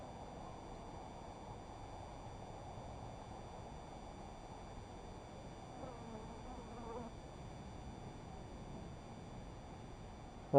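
Two hornets zip quickly past behind beehives, giving a faint, steady buzzing drone against a quiet outdoor background with no voices.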